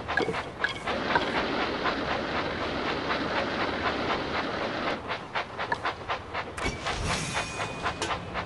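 A toy-style engine runs along the tracks in a Thomas & Friends Minis train video game, with a steady rhythmic chuffing and clattering that turns more broken and pulsing near the end.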